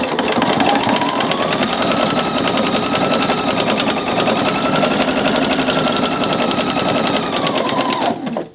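A sewing machine runs continuously for about eight seconds while gathering a blouse sleeve, a steady close, loud mechanical whir with fine rapid needle ticking that holds even and stops abruptly at the end.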